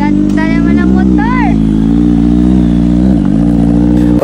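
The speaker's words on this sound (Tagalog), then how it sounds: "Ganda naman ang motor." A motorcycle engine hums steadily at close range during a ride toward Sabang on Samal Island, with a low droning tone throughout and brief voices over it.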